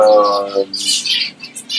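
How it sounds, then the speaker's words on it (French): Birds chirping and calling in an aviary of Yemeni birds, bright tweets and squawks close by in several overlapping bursts, with a low hum underneath. "on est ici dans la volière des oiseaux du Yémen"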